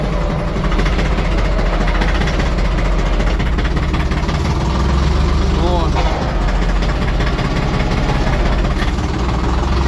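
A small LOVOL tractor with a cab, 24–35 hp class, has its diesel engine running in a steady, loud idle close by, then pulls away in first gear, with someone talking over the continuous rumble.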